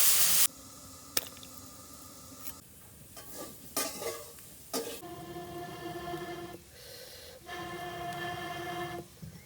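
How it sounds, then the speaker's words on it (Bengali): Frying potatoes sizzle in a pan as cumin seeds go in, a hissing fry broken by sharp utensil clinks and stirring scrapes, with several bursts of louder crackle across the clip. "আলু ভাজির মধ্যে জিরা দিল।"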